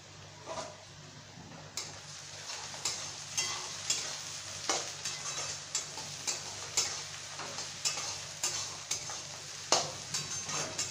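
Onion, green chili and whole cumin frying in a hot pan, a continuous sizzle broken by regular close scrapes and taps of a stirring spoon.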